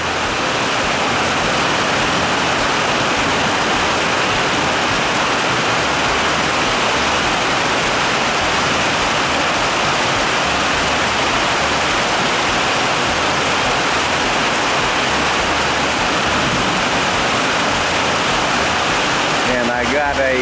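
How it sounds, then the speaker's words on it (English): Water rushes like a river down a drain ditch, making a loud, continuous broadband roar that stays steady and close throughout. "Here comes the river."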